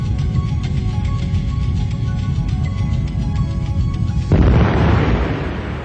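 Boiling liquid expanding vapor explosion of a heated fuel tank in a demonstration: a steady hissing, crackling fire roar suddenly bursts into a loud rushing blast near the end, alone with no talk.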